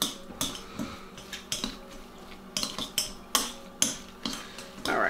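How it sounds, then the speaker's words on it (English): A potato masher mashes a bean burger mixture in a bowl with quiet, rhythmic metallic clinks and squelchy presses, about two strokes a second, close by and alone. "I use the potato masher to mix it up and mash it a little bit to get it all incorporated together"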